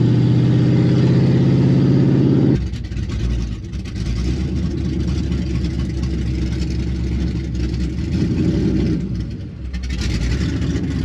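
An 11-second naturally aspirated GT car launches at around 5,000 RPM, its engine held at a loud, high-pitched rev before dropping into a rougher, throaty pull as it accelerates away, close and loud throughout.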